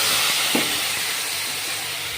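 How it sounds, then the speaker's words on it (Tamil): Tamarind water poured into a hot pan sets off a steady, loud sizzling hiss that holds for the whole stretch with no pause, with no voices over it. "இப்போ கரைச்சி வச்சுருக்கேன் புளி ஊற்றிக்கலாம்"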